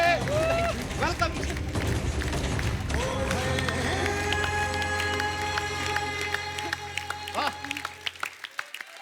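Studio audience claps loudly for guests welcomed onto a Hindi comedy show stage, the applause mixed with band music and talk throughout.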